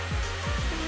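Hair blow dryer set to cool and low, a steady breathy whoosh running continuously through the short moment, close by and fairly loud, with no speech over it.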